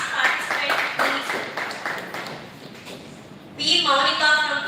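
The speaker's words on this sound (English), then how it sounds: "Let us all clap for her." A seminar audience claps briefly after a presentation, scattered clapping that fades out, followed by a voice speaking.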